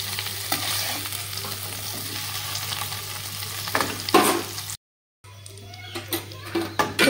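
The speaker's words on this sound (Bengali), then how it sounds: "তো হালকা পনিরটাকে আমি একটু ভেজে নেব" Paneer pieces frying lightly in oil, with a constant close sizzle and occasional stirring scrapes; the sound cuts out briefly, then the frying resumes with irregular spatters.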